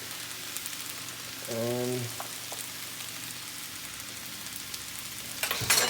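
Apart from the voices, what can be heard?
shrimp frying in a pan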